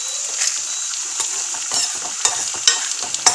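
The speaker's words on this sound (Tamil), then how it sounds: "இந்த கொத்தமல்லியை ஒரு வதக்க வதக்கிக்கலாம்." Chopped coriander leaves sautéing in a pan for broken-wheat upma, with a steady soft sizzle broken by the scrape and clink of stirring.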